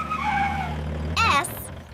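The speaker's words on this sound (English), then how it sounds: "S is for skid steer." A skid steer loader on a construction site moves with a steady engine drone, followed by a loud, short squealing or scraping burst near the end, all close and without talk.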